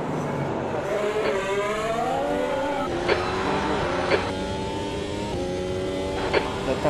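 An F1 race car engine in the Automobilista 2 game at Monaco screams close and steady, rising in pitch through the gears with brief sharp shift blips, under a brief radio voice.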